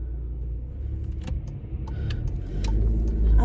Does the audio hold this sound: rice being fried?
no